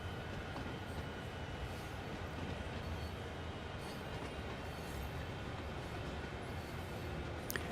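A freight train in Train Sim World 2 pulls out of a siding, giving a steady, even rumble of rolling wagons and engine noise throughout, with a faint squeal near the end.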